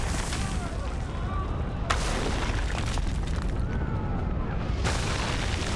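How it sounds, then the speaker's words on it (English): Cannons fire in Assassin's Creed 3, with heavy booms over a constant rumble of battle. Two sharper blasts land a few seconds apart, loud and close. "some of these cannon shots are coming from like impossible angles"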